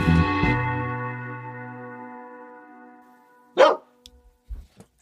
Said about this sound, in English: the dogs are sort of periodically barking at them